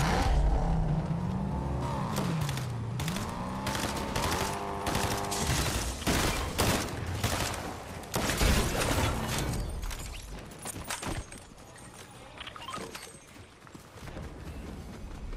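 Rapid bursts of gunfire in the video game Fortnite ring out over a loud mix of game music and car engine noise, with sharp shots clustered through the first half and sparser cracks later.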